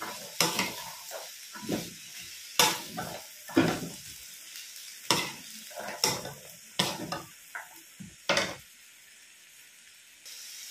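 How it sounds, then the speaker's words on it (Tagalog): Chickpeas being stirred into vegetarian pasta in a pan: about a dozen separate scraping, rustling strokes at an uneven rhythm, close and fairly quiet, with a soft sizzle between them and no talking. "Sunod naman yung ating garbanzos or yung ating chickpeas. Halo lang natin."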